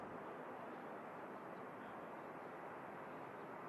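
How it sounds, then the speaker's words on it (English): Pegasus Airbus A321, not a Neo, arriving from Istanbul and touching down at Manchester Airport in strong gusts, a steady broad jet roar heard from a distance with wind noise and no break in the sound. "next aircraft to touch down"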